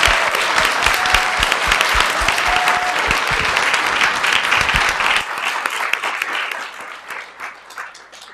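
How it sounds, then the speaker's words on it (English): Audience applause for poster contest finalists at a Martin Luther King Jr. program, loud dense clapping that stays full for about five seconds, then thins out and fades to scattered claps. "let's give all our poster finalists a round of applause."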